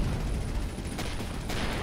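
Rapid gunfire from a fast-firing gun in the space game Avorion, a dense, loud burst of continuous shots with a couple of sharper cracks near the end, heard without voices.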